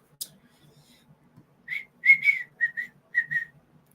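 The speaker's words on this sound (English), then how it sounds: "Sorry, I whistled there for a second." A person whistles a short tune of several clear, bright notes in quick bursts, fairly close and alone against a quiet background.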